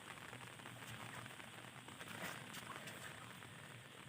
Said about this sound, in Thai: อันนี้ก็ฝนตกนะครับ อากาศเย็นๆนะครับ